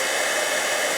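A heat tool blows hot air to melt embossing powder on a page, a loud, steady, unbroken whooshing roar heard close up with no talking.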